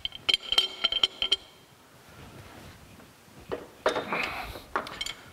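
Metal tools clink and rattle in a machine shop beside a horizontal milling machine as a wrench is fetched: a quick burst of sharp clinks, a quiet pause, then another cluster of clanks and scrapes.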